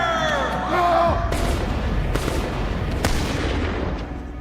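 Soldiers' rifles fire in a volley during a firing-squad scene in a western film, a loud burst of overlapping shots followed by rumbling echoes and crowd commotion, with a few sharp cracks standing out afterward.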